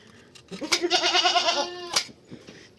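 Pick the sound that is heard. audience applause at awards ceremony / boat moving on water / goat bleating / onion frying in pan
goat bleating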